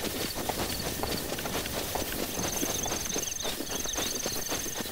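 A horse's hooves clip-clop in a quick, steady gallop across open country in Zelda: Breath of the Wild, close and continuous, with light game music and no voices.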